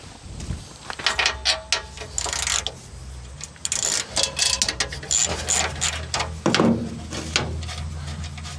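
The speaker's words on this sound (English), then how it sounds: "I've got 2 more bolts, and then this should loosen up and off." A ratchet wrench works bolts loose on an engine bracket of a John Deere 4045T diesel, clicking in quick bursts of pawl rattles with short pauses and occasional metallic knocks, close up and without speech.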